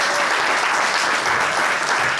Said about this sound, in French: Une annonce et un tonnerre d'applaudissements.